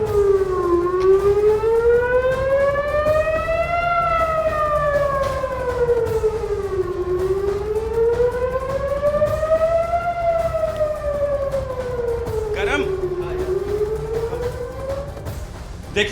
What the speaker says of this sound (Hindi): ये सायरन मिसाइल से पहले बजता है